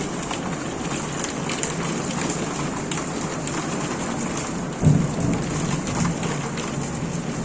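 Heavy rain during a hailstorm pours steadily throughout, with a single dull rumble of thunder partway through; no voices.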